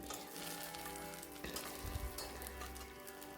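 Curry leaves fry in hot oil for pongal with a steady close sizzle and crackle, a brief stirring clatter partway through, and no voices.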